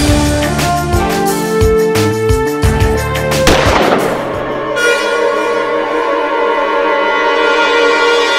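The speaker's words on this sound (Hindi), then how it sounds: "और गोली चलाओ।" Rapid loud gunshots from a handgun crack out in a burst, followed by a ringing, echoing decay that lingers and fades.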